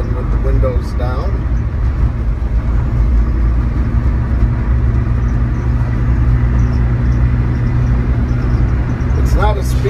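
A 1994 Subaru Sambar 4WD mini truck drives with its windows down, giving a steady, loud low engine and road rumble throughout with wind noise; a voice briefly speaks over it.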